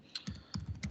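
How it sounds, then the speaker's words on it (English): Several quick, light keystrokes tap on a computer keyboard while information is entered into a Microsoft Word document, close and fairly quiet, with no talking. "Now I'm just typing in information"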